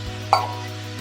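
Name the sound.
grated beetroot being stirred and frying in pan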